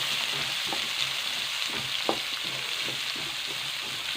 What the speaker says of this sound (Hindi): मुझे शामिल करना है यहाँ पे गाजर को मुझे थोड़ा सा कर लेना है फ्राई